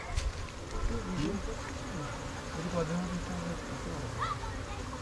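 A large honeybee colony swarms at its big comb inside an abandoned chicken coop, giving a continuous droning insect buzz behind faint outdoor noise, close and fairly even throughout.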